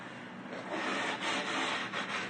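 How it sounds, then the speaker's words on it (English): Hand sanding across a rustic wooden entryway table top before finishing, a faint, soft rubbing rasp in uneven back-and-forth strokes. "just check if you need to sand a little more in some areas"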